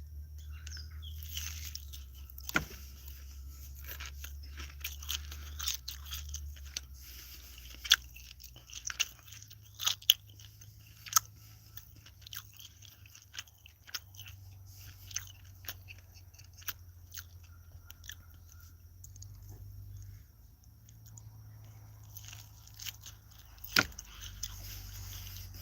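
Chewing and crunching of charred grilled food at an outdoor Fourth of July cookout, with irregular crisp bites over a steady low rumble and faint birds in the background.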